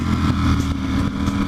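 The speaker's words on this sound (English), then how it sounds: "Just like effortless little blips." A Ducati motorcycle engine runs close by while downshifting, its steady mid-pitched drone lifted by a few quick, short throttle blips.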